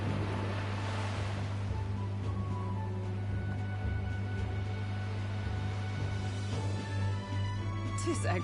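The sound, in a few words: ocean waves around a sailing ship in the video game Metaphor ReFantazio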